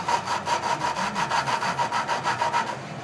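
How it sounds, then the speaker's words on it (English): Valve grinding on a Tecumseh small engine, a lapping tool rubbed back and forth against the valve seat in quick, even strokes, a close, rhythmic scratchy rasp repeating about five times a second with no talking. "You'll hear the difference in the tone from it grinding."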